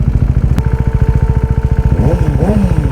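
Kawasaki Ninja ZX-10R superbike engine idling close with a steady, lumpy pulse, then blipping the throttle in two short rising revs near the end.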